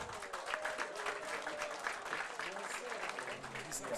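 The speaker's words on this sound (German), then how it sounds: "Ein weiterer Applaus." Audience applause at a German spring festival stage show as a singer is called up, steady dense clapping from a sizable crowd lasting throughout, with a presenter's voice faintly over it.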